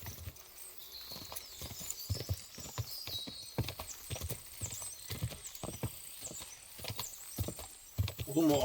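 Horse hooves clatter in a fast, uneven clip-clop in a video game, with several snorts and whinnies mixed into the busy gallop.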